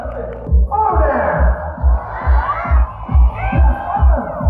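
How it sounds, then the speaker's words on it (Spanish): An audience at a wildlife park show cheers and applauds a participant. The loud, close crowd noise rises and falls, with a rhythmic thumping beat underneath. "Un aplauso para Lili, nuestro participante."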